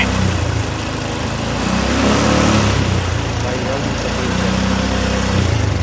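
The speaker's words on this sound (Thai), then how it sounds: "เดี๋ยวครูลองเร่งดูรถคันนี้จะเกิดอะไรขึ้นครูลองเร่งเครื่องเห็นไหม" A car engine roars loudly and steadily close by, revving throughout, with voices talking over it.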